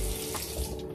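Water streams steadily from a bathroom sink tap as a face is rinsed after a pore cleanse, a close, continuous splashing hiss with no talk.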